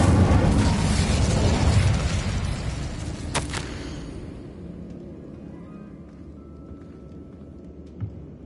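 Incendio, a fire spell cast in the video game Hogwarts Legacy, erupts in a loud fiery burst with a sharp crack partway through, then fades into a lingering low rumble and a faint late pop.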